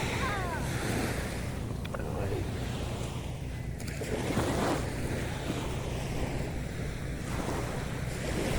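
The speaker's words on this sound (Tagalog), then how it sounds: "Yan ay dagat." Steady surf rolls and washes on a beach in Zambales, Philippines, under constant wind buffeting the microphone, with no talking.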